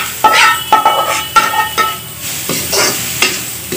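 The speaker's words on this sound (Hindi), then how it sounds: "अब इसी में हम डाल देते हैं आलू।" Potatoes are stirred into a sizzling soybean curry cooking on a chulha stove. A spoon scrapes the pan in repeated close strokes over a steady frying hiss, and no one talks.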